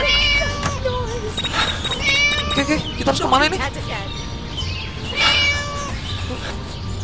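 Several meows from a cat in the Scary Teacher 3D video game sound loud and close, repeated in bursts over game sounds, while a person talks over them.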